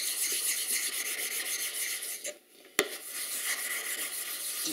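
A hand plane blade being sharpened on a lapping plate, giving steady close rubbing and rasping strokes with a short pause and a sharp click midway, no talking.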